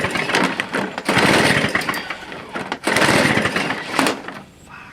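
A Toro machine's small engine, under repair with the choke off, runs loud and rough, surging in two uneven bursts before dropping off toward the end.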